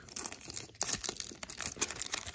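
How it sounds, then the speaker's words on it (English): Crinkly foil wrapper of a Korean Eevee Heroes Pokémon card pack being cut and torn open up close, a steady run of crackling, rustling bursts with no talking. "I'm so bad at cutting these packs because I don't cut them properly."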